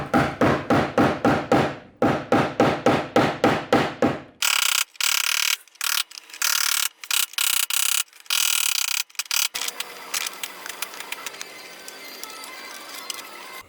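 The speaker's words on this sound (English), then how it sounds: "We're gonna use a screwdriver and just kind of beat it." A screwdriver beaten with a hammer against a retainer nut on the transmission of a 1965 Mustang project: a rapid, regular run of sharp metallic strikes, then slower, irregular knocks and scraping, close and loud.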